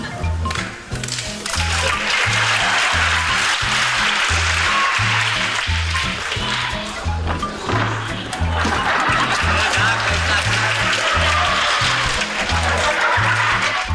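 Circus show audience laughing and applauding through two long swells of crowd noise, with a steady rhythmic low thumping beneath, all fairly loud and continuous.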